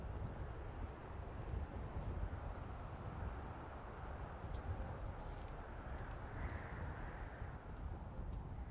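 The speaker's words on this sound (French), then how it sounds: "J'aime bien le bruit du vent là." Wind blowing across a desolate island in the video game Dear Esther, a steady, soft, breathy rush that stays even throughout, with no voices.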